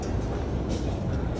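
A metro train in Yerevan, Armenia rumbles loudly and steadily, a continuous roar of wheels and motion close by.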